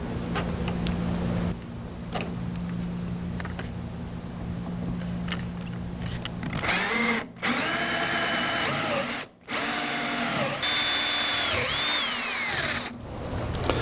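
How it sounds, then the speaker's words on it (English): A power drill with a 3/8-inch twist bit whirs steadily into the end of a wooden lamp leg connector, with the motor pitch shifting and a few brief pauses as the bit bites and stops. "Use a 3/8 twist bit to drill into the end of the leg connector."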